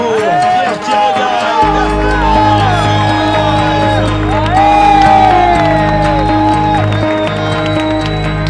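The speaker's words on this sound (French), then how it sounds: "Des applaudissements s'il vous plaît pour Pierre Quiroga" An audience claps and cheers for Pierre Quiroga, loud and sustained, with whoops and shouts over bright music, and a voice speaks briefly at the start.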